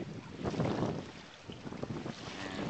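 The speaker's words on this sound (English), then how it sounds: "Making probably 6 knots just under jib and jigger." A sailboat underway at about six knots under jib and mizzen, with rushing wind and water washing along the hull in a steady, broadband roar that rises and falls.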